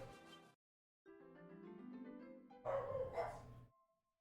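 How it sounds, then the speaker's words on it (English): Dogs bark and yelp in the background of a room, a burst of calls, a short silence, then longer drawn-out yelps and a final rougher volley that fades out. "I apologize for the dogs."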